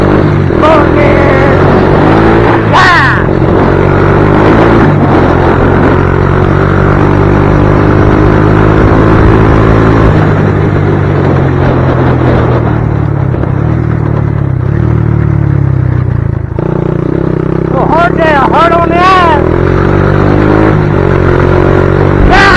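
A kick-started motorcycle engine revs loudly and continuously, its pitch climbing and dropping as it shifts up through second, third and fourth gear, with close voices talking over it.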